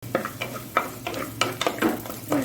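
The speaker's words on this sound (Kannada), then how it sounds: "ಆನಿಯನನ್ನು ಹೀಗೆ ಚೆನ್ನಾಗಿ ಸ್ವಲ್ಪ ಕಲರ್ಫುಲ್ಲಾಗಿ ಫ್ರೈ ಆಗಬೇಕು" Onions fry in a pan for a Mangalore-style squid roast. A spoon scrapes and stirs them in a quick irregular run of strokes over a light, steady sizzle, all close by.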